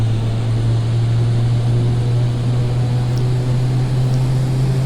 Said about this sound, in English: so we'll just get the airplane turned around here.